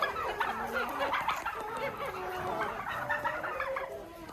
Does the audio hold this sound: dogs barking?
no